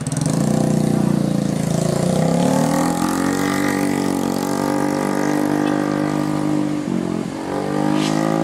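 A motorcycle engine revs and drones continuously up close on a road slick with diesel and water, pitch rising and falling, with a brief dip before climbing again.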